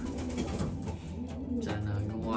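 Breeding racing pigeons cooing inside a roomy loft, low soft throaty coos repeating over a steady background hum, fairly close.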